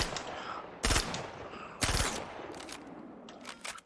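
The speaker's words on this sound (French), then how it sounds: "Je vais vider le chargeur." The Gemini C54 submachine gun in the Star Citizen game fires in short, sharp bursts, two heavier volleys followed by quicker rattling shots, loud and close with no talking.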